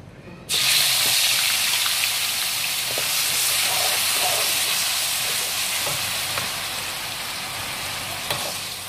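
Onions and dried chillies hit hot oil in a pan with a sudden loud sizzle, then hiss steadily and slowly ease off as they sauté.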